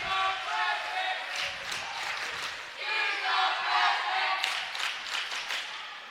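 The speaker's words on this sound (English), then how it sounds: "Good little crowd here for the first game at home." Fans cheer and shout at a girls high school volleyball home game in a gym, a steady crowd roar with bursts of louder cheering and some clapping throughout.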